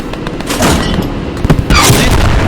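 Tank cannon fire from a Panzer IV/70 in the video game Post Scriptum, heard as a few sharp booming shots over continuous battlefield noise, loud and fairly close.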